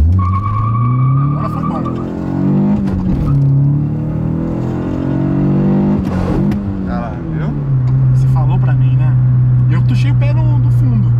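Chevrolet Corsa 1.6 16v naturally aspirated street car accelerating hard, engine pitch climbing steadily through the gears with a brief dip at a shift, loud and close from inside the cabin, with occupants talking over it.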